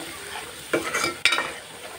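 A utensil stirs and scrapes spices around in a hot frying pan, two distinct scraping strokes over a steady low sizzle, close and moderately loud.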